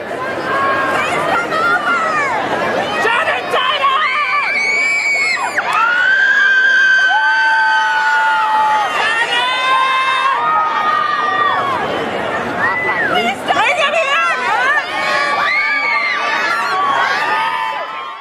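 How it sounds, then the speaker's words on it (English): Fans outside the 21 Jump Street premiere keep up loud rhythmic chanting and high shouts for Channing Tatum, a dense crowd of excited voices with children's cries rising and falling throughout. "the crowd hasn't given up yet. They're still doing their chanting"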